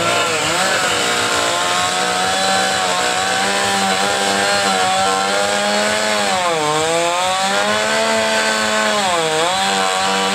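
A powerful chainsaw with a small bar carves wood at full throttle, loud and close throughout, its engine pitch dipping and rising as the cut loads and frees.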